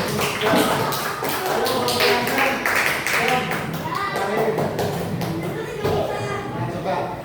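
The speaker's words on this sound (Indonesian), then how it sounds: "Tepuk tangan untuk kelompoknya." Children in a primary school classroom clap for a group, a ragged burst of applause mixed with taps and lively kids' chatter that continues throughout.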